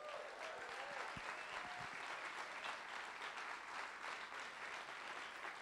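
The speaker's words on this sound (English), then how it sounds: "Let's hear a round of applause for that." A crowd at an awards presentation gives steady, dense applause, many hands clapping continuously at an even level, with a couple of faint voices underneath.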